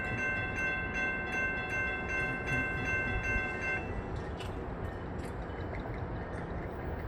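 A passenger train on the FEC line in Pompano Beach sounds a sustained horn over steady rumbling wheels for several seconds, then the horn stops while the train keeps rolling past with rhythmic clanks.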